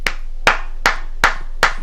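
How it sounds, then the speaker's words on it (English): Five sharp hand claps sound in a slow, even rhythm about four tenths of a second apart, close and distinct, each with a short decay, and no voices. "I'm going to give him a nice little round of claps."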